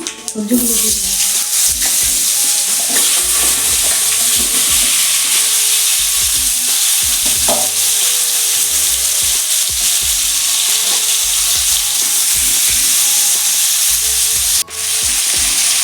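Diced potatoes and flat beans seasoned with turmeric and salt fry with a loud, steady sizzle, with scraping stirs and spatula knocks against the pan running throughout.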